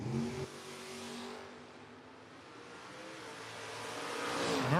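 Drag race launch of a Nova against a 1968 Camaro at a drag strip: engines rev and roar, dipping briefly before rising again as the cars pull away, loud and continuous with no talk.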